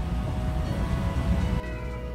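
A JR West 521 series AC/DC electric train running with a steady low rumble and whine of motors, heard from close by, the tone shifting slightly near the end.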